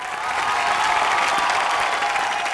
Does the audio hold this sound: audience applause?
yes